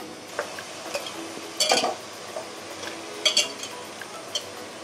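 Chicken in a pan being stirred after green chili paste is added, with a few sharp utensil scrapes and clinks against the pan standing out from a quiet background, no talking.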